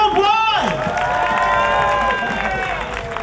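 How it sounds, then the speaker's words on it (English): An audience applauds and cheers after a competition yo-yo demonstration by Duncan Crew Worldwide, a dense burst of clapping and crowd noise that sits under a loud amplified voice on the microphone. "One more big round of applause to Duncan Crew Worldwide!"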